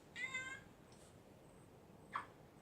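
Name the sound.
cat meowing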